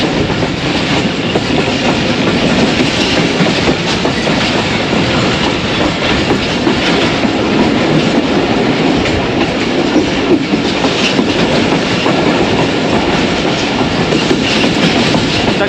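Subak Raftar 101UP passenger train near Rawalpindi, heard from aboard as a steady loud rumble of wheels on rails with continuous clickety-clack and carriage rattle throughout.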